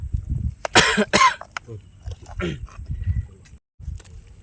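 Several sharp, harsh coughs from a fisherman who dives underwater burst out close by, followed by a throaty clearing sound, with quieter background noise between them.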